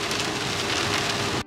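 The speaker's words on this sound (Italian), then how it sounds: "torniamo a casa con la pioggia. Ma va bene così. E che pioggia!" Heavy rain drums steadily on the roof and windows of a home-converted camper van on the drive home, a dense continuous hiss that cuts off abruptly at the end.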